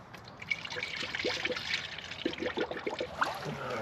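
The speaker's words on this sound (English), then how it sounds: "let's go ahead and fill it up with coolant and make sure we don't have any silly leaks" Coolant pouring and trickling into the cooling system of a 2004–2006 Freightliner Sprinter van after a water pump replacement, a steady gurgling liquid flow with small splashes, close and fairly quiet.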